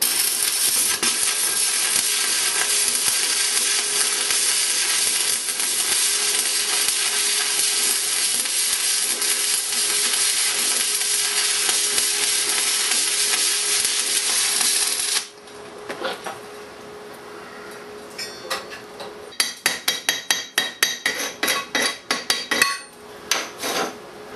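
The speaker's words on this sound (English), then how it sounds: "I'll put a couple of tacks on and we'll weld along there" Stick welding 10mm stainless steel plates with a stainless rod gives a loud continuous crackling hiss that cuts off abruptly, followed by sharp scattered clinks and taps.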